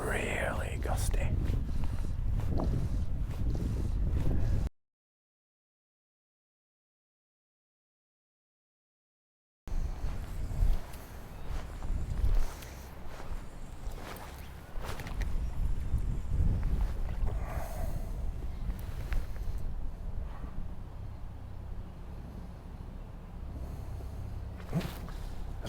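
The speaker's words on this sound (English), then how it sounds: "Oh, that wind is getting really gusty." Gusty wind over Rutland Water during twilight fly fishing, with buffeting rushes and microphone wind noise on open water and someone talking over it.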